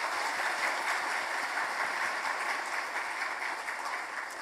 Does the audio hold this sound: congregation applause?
yes